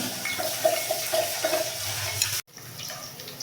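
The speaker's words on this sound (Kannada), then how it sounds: "ಈಗ ಒಗ್ಗರಣೆ ಹಾಕ್ತಾ ಇದ್ದೀನಿ" Spices tempered in oil and a little ghee for mushroom biryani, a continuous crackling hiss with light scraping, dropping out for a moment before quieter sizzling resumes.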